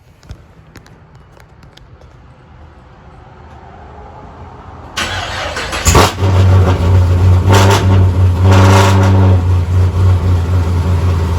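A Pontiac G8 running on a lightweight lithium battery cranks and fires up, the starter catching after a quiet lead-in and the engine settling into a loud, steady idle that carries to the end.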